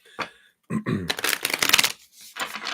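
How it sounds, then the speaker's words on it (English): Tarot reading cards are shuffled up close in several quick, crisp riffling bursts with short pauses between them. "A little shuffle."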